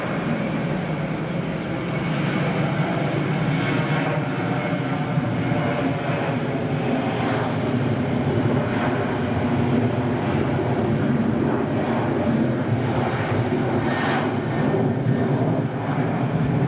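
An airplane on its downwind approach to land at Madeira Airport roars loudly and continuously, a broad jet rumble with a slowly wavering tone and no voices over it.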